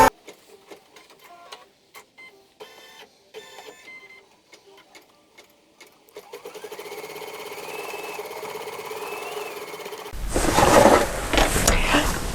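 Embroidery sewing machine stitching a flower design: sparse clicks and short stitching bursts build into a steady mechanical hum, then louder rustling noise takes over near the end.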